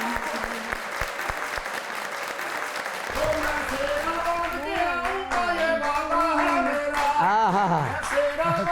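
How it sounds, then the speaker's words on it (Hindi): A studio audience on a Pakistani comedy talk show claps and applauds in a dense burst under a voice, with sung or drawn-out vocal lines rising over the clapping toward the end. "ताली भी मारा"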